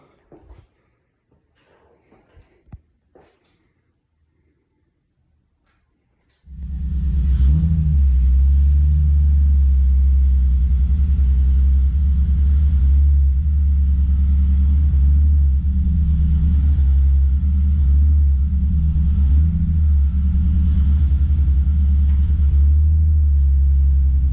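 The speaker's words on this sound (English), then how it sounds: "I'm gonna go ahead and park the car how it was." After several seconds of near silence with a few faint clicks, a BMW E46 car engine starts and rumbles steadily and loudly while idling or driving.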